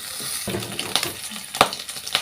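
Sliced mushrooms sauté in hot oil in a pan, a steady close sizzle broken by a few sharp clicks of a spoon scraping and stirring against the pan.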